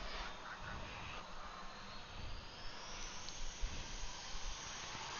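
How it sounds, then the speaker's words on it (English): Airbus A321 jet engines spool up at Atlanta airport, a steady broad roar with a rising whine, heard from a distance and fairly faint throughout. "You can hear that A321 firing up the engines."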